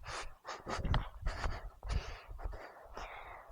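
Heavy, ragged panting after exertion near the sea at Poombukar, with rapid loud gasping breaths and snorts close to the microphone and no talk over it.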